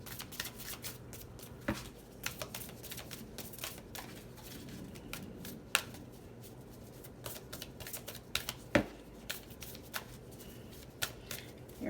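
A Moonology oracle card deck being shuffled by hand, with crisp riffling bursts and sharp slaps at irregular intervals, close and quiet, with no talking.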